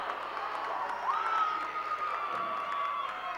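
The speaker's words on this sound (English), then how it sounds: "And this crowd is finally hyped up." A high school basketball crowd in a gym cheers and shouts steadily through the few seconds, a sustained roar with a whistle-like tone cutting through, moderately distant.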